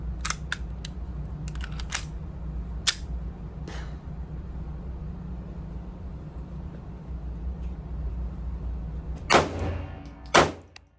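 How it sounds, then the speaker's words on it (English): Sharp metallic clacks of a Sig Sauer P365 Luxe .380 pistol slide dropping and handling clicks, a few close crisp snaps scattered over a steady low hum, with a louder pair near the end. "Let's see how that slide drops."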